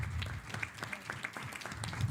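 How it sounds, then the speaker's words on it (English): Brief applause at a school board meeting, a modest burst of clapping from the room that rises and falls over a couple of seconds, with no speech on top. "Let's give a round of applause for Powell."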